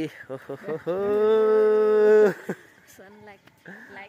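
A loud, drawn-out moo from an ox lasts over a second, with people talking briefly before and after it.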